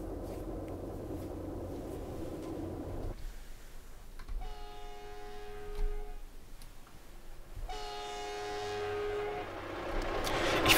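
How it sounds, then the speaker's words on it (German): Two long sustained blasts from the horn of a Diesel ICE TD BR 605 train in Train Simulator, sounding over the rumble of the moving train with a short gap between them. "Ich finde auch, der Zug hat so einen richtig, ja, ich sag mal, passendes Soundgeräusch, was das Horn angeht."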